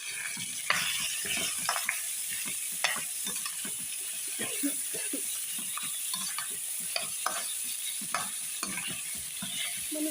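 Chicken stir-frying in a pan for fried rice, a steady hiss with repeated scraping and clinking of a utensil against the pan, close and moderately loud with no talking.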